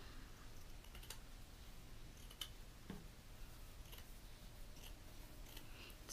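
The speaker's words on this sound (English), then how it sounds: "So here I'm cutting the felt." Scissors snip through lavender felt, cutting a strip about three inches wide in a series of quiet, close crisp clicks over a soft steady hiss of room noise.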